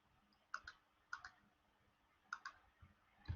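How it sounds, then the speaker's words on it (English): Four short bursts of keystrokes on a computer keyboard, each a quick cluster of two or three crisp clicks, close and fairly quiet in an otherwise still room. "Let me type that down."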